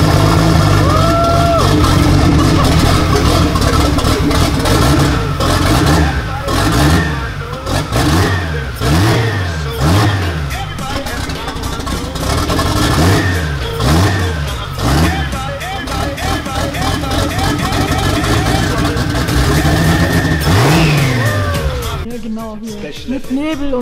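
A VW Golf VR6 with a DTM exhaust, still cold, revs repeatedly to about 6,500 rpm, each rise and fall sweeping loudly up and down in pitch, with voices talking over it.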